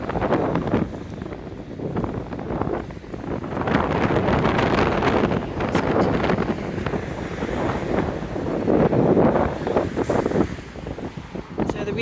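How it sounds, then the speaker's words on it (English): Strong wind gusts across the microphone at the seaside in Margate on a cold day, a loud, rough roar with surf washing beneath, rising and easing in waves, with no speech. "it's quite windy and cold"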